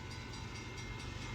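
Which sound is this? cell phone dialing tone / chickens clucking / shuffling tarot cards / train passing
train passing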